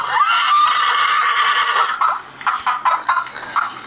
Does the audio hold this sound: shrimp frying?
no